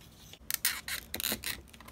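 Small cutters snip the excess tails off zip ties on a Green Hornet cinewhoop drone, giving a few quick, close, dry snips and scrapes in a quiet room with no talking.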